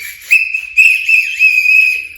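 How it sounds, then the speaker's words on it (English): Sharp whistle blown in several bursts at a children's church gathering, loud and close, with short gaps between the blasts. "I get a whistle for you."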